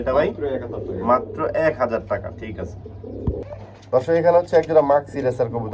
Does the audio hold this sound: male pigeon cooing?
yes